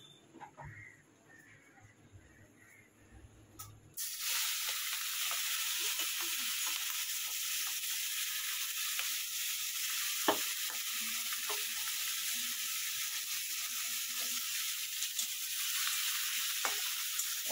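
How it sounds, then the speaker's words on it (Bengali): Shrimp seasoned with salt and turmeric drop into very hot oil, setting off a sudden loud, steady sizzle after a few quiet seconds, with occasional pops and crackles continuing throughout. "তো এখানে তো তেল একদম গরম, তো চলো চিংড়ি মাছগুলোকে ভেজে নিই।"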